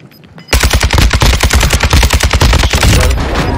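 Rapid automatic gunfire in a shooter video game erupts after a brief quiet moment, a loud, steady burst of closely spaced shots rattling on for about three seconds before tapering slightly.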